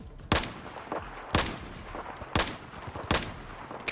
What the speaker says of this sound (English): I'm just standing here shooting people